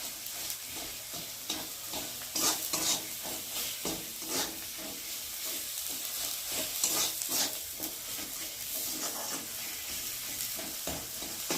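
Spices and tomato sizzle in hot oil while a spoon stirs them, with steady broadband frying hiss and repeated scraping strokes throughout, close and fairly loud with no talking.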